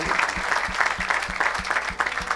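A church congregation clapping in steady rhythmic unison, loud and close, each clap sharp and evenly spaced, with crowd noise underneath.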